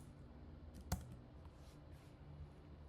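A single crisp key press on a computer keyboard, hitting Ctrl+Enter while working with Python functions in Excel, one sharp click over quiet room hum.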